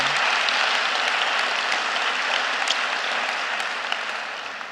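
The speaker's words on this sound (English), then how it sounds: "Can we have a round of applause for everyone?" Audience applausing for storytellers at a storytelling event: a dense, steady wash of clapping from a full crowd, loud and even, tapering slightly toward the end.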